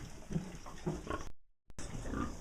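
A nursing sow grunts contentedly at close range in a series of low, rhythmic grunts, broken by a short gap of silence before the grunting resumes.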